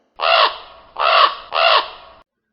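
A raven caws three times in a steady rhythm, each call a harsh, drawn-out rasp about half a second long, loud and close with silence around it.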